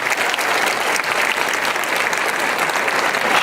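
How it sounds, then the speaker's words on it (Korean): Church congregation applauding together, giving praise during a worship service: dense, steady, loud clapping from many hands that fills the room and holds evenly throughout. "그런 교회를 주신 주님께 영광의 박수 한번 들려드립시다."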